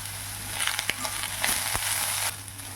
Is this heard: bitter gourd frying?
yes